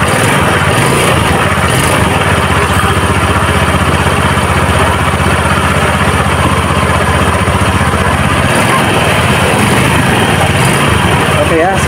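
A carbureted Honda Beat scooter engine runs steadily after a V-belt replacement, a loud, continuous close-up drone with no breaks, and faint talk beneath it.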